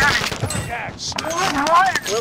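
Gunfire bursts from a Call of Duty: Modern Warfare firefight, sharp cracks scattered through the clip under excited voices talking over each other.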